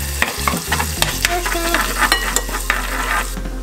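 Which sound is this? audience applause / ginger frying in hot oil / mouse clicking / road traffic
ginger frying in hot oil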